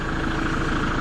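A Kubota tractor fitted with a backhoe attachment idles close by, its engine a steady, dense rumble with no change in pace and no voices.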